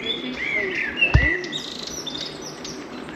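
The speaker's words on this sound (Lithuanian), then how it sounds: "O paukščiukų čiulbėjo." Small birds chirp and tweet in a park in Obernai, France, several high calls close by over faint outdoor background, with a brief thump near the middle and no talk.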